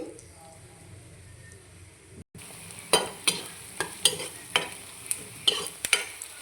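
Onions added to hot oil for a potato curry, starting with a low background hiss, then a brief cut to silence, followed by a crisp frying sizzle with regular sharp scraping stir strokes, close and without talk.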